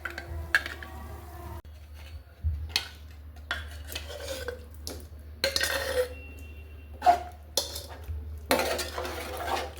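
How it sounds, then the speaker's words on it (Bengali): A spoon scrapes and clinks against a pot as yogurt is stirred into spice paste off the heat, irregular close metallic knocks and scraping strokes with quiet pauses between them. "চুলা বন্ধ অবস্থায় কিন্তু আমি দইটা ভালো করে মিলিয়ে নিচ্ছি মশলার সাথে।"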